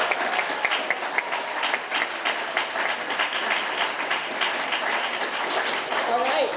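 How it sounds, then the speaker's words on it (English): Sustained audience applause at an art gallery event fills the room, dense steady clapping from many hands held at an even level throughout. "One more round of applause."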